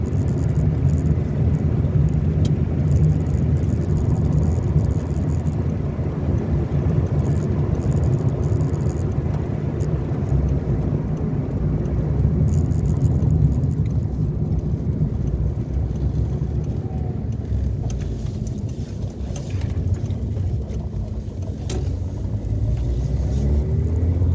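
A Renault 11 GTX engine running steadily while the car drives, a continuous close, deep rumble that holds an even level throughout with no talking.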